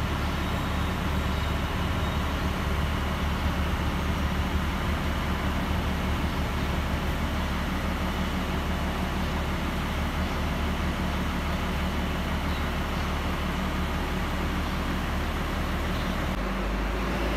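A Gumarang Jaya bus pulls away from a terminal, its engine giving off a steady, loud low rumble that holds evenly throughout with no voices over it.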